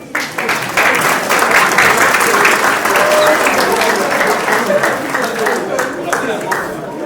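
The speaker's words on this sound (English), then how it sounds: "round of applause for him, please." A room at an awards night breaks into a round of applause, steady, dense clapping from the audience that starts within the first half second and carries on throughout at an even level.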